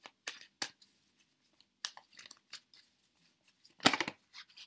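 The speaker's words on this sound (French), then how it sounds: "Vous mélangez vos cartes en vous concentrant sur la question." Tarot cards from a witches' deck are shuffled by hand in a quiet room, giving a run of quick, crisp riffling and slapping bursts with short pauses between them, fairly close and soft, with no voices.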